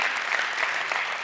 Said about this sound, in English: Sorry, please don't clap.